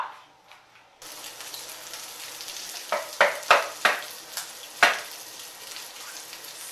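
Beef sausage sizzling in a hot frying pan, a steady crackle that starts abruptly and is punctuated by several sharp spattering pops.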